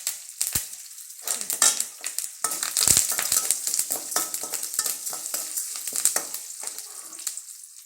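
Urad dal fries in a hot pan as the base for papaya thoran, crackling and sizzling loudly and continuously up close, with frequent scraping stirs and no voices.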